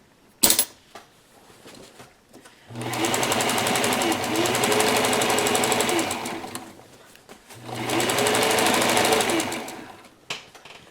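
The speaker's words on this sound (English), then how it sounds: "we're going to sew along the bottom seam so that we know it is pinching down on the edge of the quilt" A sewing machine stitches along the bottom seam of a small catnip-filled quilt, running in two steady, fairly loud bursts of rapid mechanical whirring separated by a pause, with a brief click at the start.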